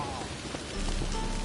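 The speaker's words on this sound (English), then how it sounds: "I like rain." Rain falling in The Witcher 3: Wild Hunt, a steady dense patter with no break, growing slightly heavier partway through.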